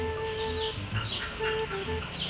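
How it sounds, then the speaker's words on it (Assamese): Duck and farmyard fowl calls in a rural Assamese household, a steady run of short, honking and clucking cries repeating close by over a constant background hum. "গাহৰি কান্দি আছে হাঁহ কান্দি আছে"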